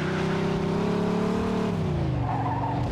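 Car engine driving in Mafia 2 Definitive Edition, a Pontiac-style car, with a loud steady engine drone that shifts pitch near the end, alongside tire noise.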